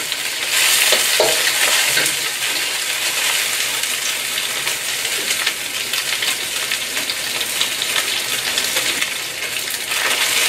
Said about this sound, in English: Okay, now we're gonna give them a quick stir.